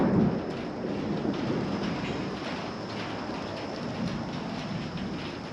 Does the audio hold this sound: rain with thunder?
yes